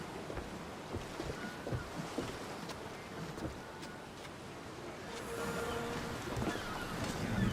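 A sailing ship at sea in Assassin's Creed Odyssey, bound for Serifos: steady wind and the wash of waves against the hull, swelling a little louder in the last few seconds, with no voices.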